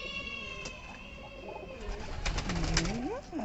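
Pigeons coo and flutter close by as they come into a farm loft, with soft calls and a burst of wing flaps at the end.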